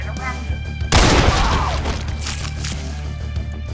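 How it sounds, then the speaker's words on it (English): Machine gun fire in the game Ashes: Afterglow, a sudden loud burst breaking in about a second in and trailing off into scattered echoing noise over a steady low hum. "there's a machine gun. I think the lady has a machine gun. Or a submachine gun."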